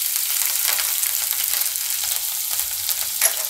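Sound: green chillies sizzling as they're added to a pan

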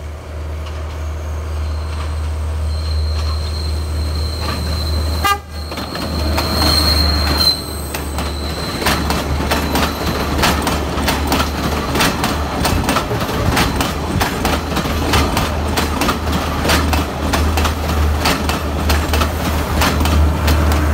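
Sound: train passing on Sri Lankan railway

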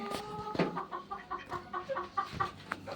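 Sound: hen clucking

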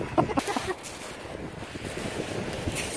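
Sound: wind on a beach near Eastbourne

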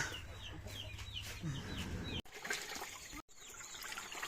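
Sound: chickens clucking

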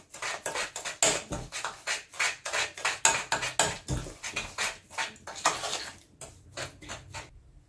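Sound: mixing softened butter with sugar

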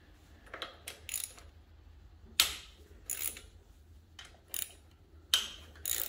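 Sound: ratchet loosening riding lawnmower bolts

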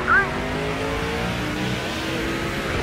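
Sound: race car engines launching at race start, NASCAR 2005 video game

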